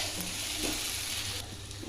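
Cooked rajma being stirred in hot oil in a frying pan, a soft, steady sizzle with faint scraping, fairly quiet and brief.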